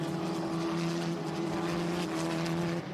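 Formula Regional race cars on a circuit give a steady, droning engine whine that holds for nearly three seconds and then drops away, heard from a distance under a loud, even tone.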